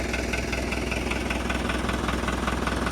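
A New Holland TS110 tractor engine idles nearby with a steady, loud diesel chug and rhythmic knocking pulse that holds evenly from start to finish.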